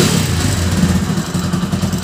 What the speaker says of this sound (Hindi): देखिए दोस्तों, ये पेट्रोल पर एकदम मस्त स्टार्ट हो गई है बाइक।